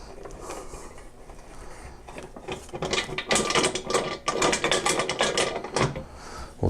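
Bolts are unscrewed from the lid of a pressure pot used for casting pen blanks. The sound is a busy close-up run of ratcheting, metallic clicks and rattles that grows louder and denser after the first few seconds, with no talk.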